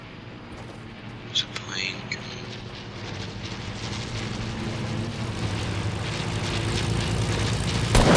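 A Fortnite airplane engine drones steadily throughout, a constant low propeller-like rumble that swells slightly toward the end, with a few brief game effects near the start.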